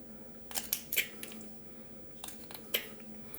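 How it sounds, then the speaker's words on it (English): A wooden face being whittled with a knife using short push cuts: faint, crisp snicks and scrapes in small clusters over quiet background hum, close and delicate. "I push cut right up to that. And a push cut is just, you know, you're pushing your knife up to that stop cut"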